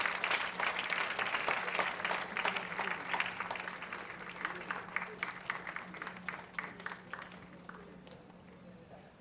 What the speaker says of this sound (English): let's continue to keep the applause coming